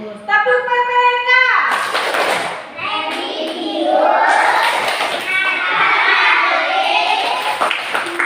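Children in a classroom chant together and clap a rhythmic pattern in a group clapping game. It follows a short tonal cue, with voices and claps mixed loudly.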